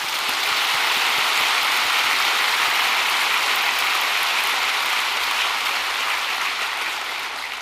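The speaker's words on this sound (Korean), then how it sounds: "우리 하나님께 한 박수를 치십시다." A church congregation applauding, a loud, dense wash of many hands clapping steadily throughout that eases slightly toward the end.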